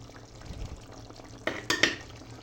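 Green bean stew being stirred in a cooking pot, giving a few soft scraping and clinking strokes near the end, close and fairly quiet over a low kitchen background.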